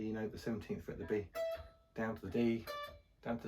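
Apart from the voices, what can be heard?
None of the usual background noises is heard.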